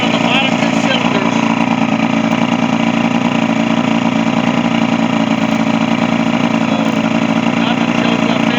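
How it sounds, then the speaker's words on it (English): A marine 60 outboard motor with a lack of power and hard starting runs on only its bottom two cylinders, a loud, steady, uneven idle with a rough pulsing beat throughout. "It's running on the bottom 2 cylinders."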